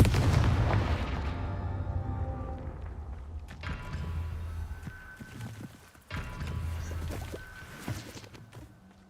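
Fire-blast spell explosions from Hogwarts Legacy boom in bursts, a heavy blast at the start followed by two more sharp detonations with rumbling tails, loud and close amid game sound.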